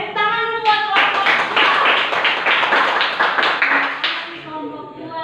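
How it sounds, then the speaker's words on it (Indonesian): A classroom of students claps for a student group, a few seconds of brisk, dense applause with a teacher's voice speaking over the start and end. "Tepuk tangan dulu buat kelompok"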